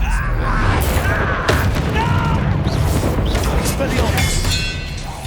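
Confringo blast spells in Hogwarts Legacy, a string of booming magical explosions and crackling bursts amid combat clatter, with a voice calling out over the chaotic fight.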